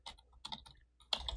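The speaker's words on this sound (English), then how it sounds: "I'll hit T on the keyboard and just start typing" Fingers type on a computer keyboard while text is entered in a design app, a quiet, close run of uneven key clicks in short bursts separated by brief pauses, with no talking.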